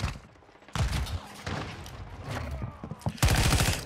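Rapid gunfire from Call of Duty Modern Warfare 2 in a 6v6 Shipment match crackles in bursts, with loud shots and sniper booms stacked close together and players talking over the action.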